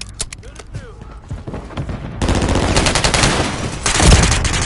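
Video game gunfire in bursts, a few scattered shots at first, then sustained loud rapid automatic fire with a heavy thump near the end, close and dominant, with a voice speaking over it.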